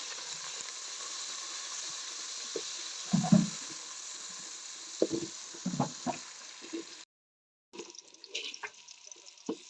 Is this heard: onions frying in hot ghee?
yes